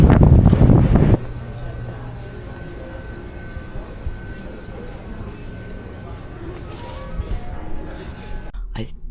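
Strong wind buffets the microphone on the open deck of a Brittany Ferries ship between Portsmouth and Santander, with a loud gust at the start, then steady rushing wind and engine rumble, and a voice speaking intermittently.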